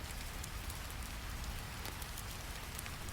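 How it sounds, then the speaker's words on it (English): Soft, steady patter of rain on window glass with faint scattered drops tapping, a constant quiet hiss without any talking. "Rain begins tapping on the windows. Gentle drops against cold glass."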